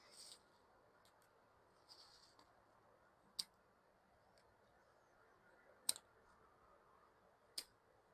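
Hand pruning shears snip small branches during forest trimming and thinning, a few sharp isolated clicks spaced seconds apart over a quiet outdoor background.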